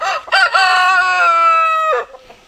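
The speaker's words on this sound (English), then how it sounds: "This is my biggest rooster, biggest chicken right now currently." A single loud, close rooster crow, one long drawn-out cock-a-doodle-doo with no other sounds around it.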